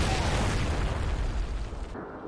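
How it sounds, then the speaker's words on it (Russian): Artillery fire and explosions from the World War II strategy game Blitzkrieg, during an assault on the Mannerheim Line, form a dense, continuous rumble of overlapping booms that thins out near the end. "Вроде идет стрельба"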